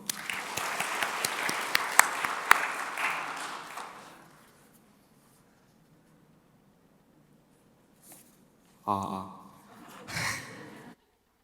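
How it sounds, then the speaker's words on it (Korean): Church congregation applauding at a Sunday evening baptism service, a dense round of clapping that fades out after about four seconds, followed by quiet and then brief rustling and breathy sounds. "박수."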